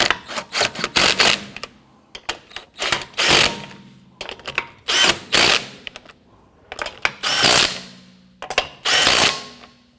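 Lug nuts being snugged down on a 2017-2020 Hyundai Elantra wheel, heard as loud, close bursts of rapid mechanical ratcheting clatter repeating in groups with short pauses between them.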